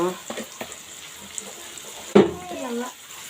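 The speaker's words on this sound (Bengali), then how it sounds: "এখন এই তেলে আমি এখন পেঁয়াজগুলো" Onions frying in hot oil in a pan, with a soft continuous sizzle, a few light utensil taps, and one louder clatter partway through.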